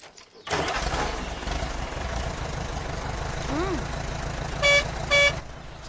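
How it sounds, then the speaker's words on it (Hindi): A tractor with a faulty clutch cranks and catches, its engine rumbling loud and steady with a rising whine partway through, followed by two short horn-like toots near the end. "बार बार ट्रैक्टर बंद भी हो रहा है"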